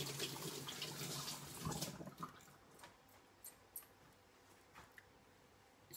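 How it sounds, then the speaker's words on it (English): Running tap water while hands are washed at a sink, a steady faint splash and rush that thins out into softer scattered drips and trickles, with no talking. "I have to wash my hands."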